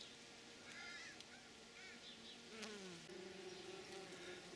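Honeybees from nearby colonies buzz around summer garden flowers including bramble, a steady close insect hum with overlapping drones and a few brief higher passes, no talk.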